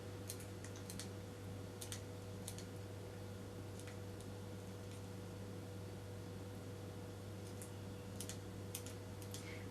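Scissors trim the excess from tiny glass tile stud earrings, making faint clusters of small, sharp snips over a steady electrical hum in a quiet room.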